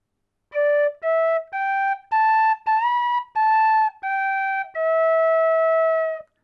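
A Manx tin whistle in D plays the opening phrase of the tune Nelson's Tonic: about eight clear, bright sustained notes, mostly separate with short gaps and a few slides, ending on a long held note, alone with no talking.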